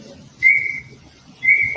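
Two loud, sustained whistle blasts from soldiers at a gathering where officers and police are present, each about half a second long, separated by a pause, over a low crowd murmur.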